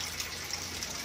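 Water gushes and splashes steadily into a concrete tank, drawn from a deep well by a 1 horsepower water pump, in one brief continuous pour.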